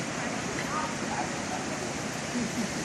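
Strong floodwater rushes past during the October 2013 flooding in Thap Thai, Ta Phraya, Sa Kaeo, Thailand, a steady, dense, loud roar with no break.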